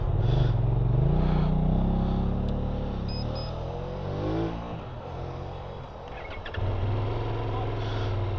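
A QJ Motor SRT900S motorcycle engine starts and settles into a loud, steady idle up close, with a brief dip in level before picking back up near the end.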